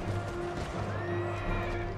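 Horses neighing and whinnying in an Empire Total War battle between a cavalry regiment and militia, a steady continuous whinny over a dense clatter of hooves and battlefield noise, with no talk.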